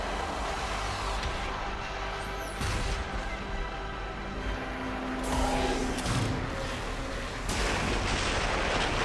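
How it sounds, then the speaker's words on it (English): Missiles launch at a destroyer in a sci-fi video game battle on Rannoch: several heavy, booming blasts burst over a constant roaring rumble, with a sharp new surge a few seconds apart and a brighter crackling burst near the end. "The destroyer is in range. Missiles are ready for launch."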